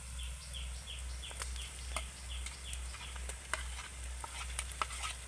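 Sliced onion with ginger-garlic paste fries lightly in oil for egg biryani, a soft steady sizzle broken by sharp stirring clicks and scrapes, over a low electrical hum and repeated short chirping tones.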